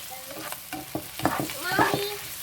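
Onions cooking down in a pan on a stovetop, with soft sizzling under intermittent stirring and spoon scrapes, close up and fairly quiet, no voices.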